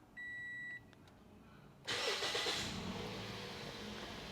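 Car with keyless push-button start: a short electronic beep, a pause with faint clicks, then the engine cranks and catches and settles into a steady idle, nearby and moderately loud.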